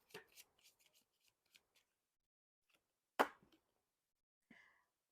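Tarot cards being shuffled and handled, a scatter of short dry flicks and riffles with one sharper snap midway and a soft rustle near the end, quiet and close with no talking.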